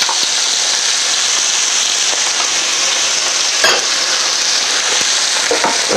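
Chicken and snow peas stir-fry in a hot pan with a steady, dense sizzle throughout, a few sharper crackles and spatters rising briefly near the middle and end.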